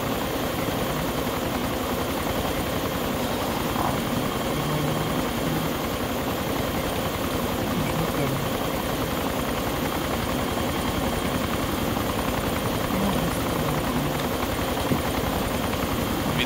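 An armed helicopter's engine drones on in the video game DayZ Overpoch, a steady, unbroken low whir and hum holding at an even level throughout, with no talking over it.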